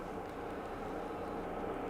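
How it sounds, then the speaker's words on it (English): A logging truck passes along a road outside, heard only as a faint, steady low rumble in the distance with no other distinct sounds over it. "And logging truck going down the road, if you can hear that."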